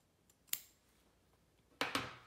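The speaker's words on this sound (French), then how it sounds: "on va venir couper toute cette partie-là" Scissors snip through fabric along a sewn seam, giving one crisp cut and then two quick close snips, near and fairly faint in an otherwise quiet room.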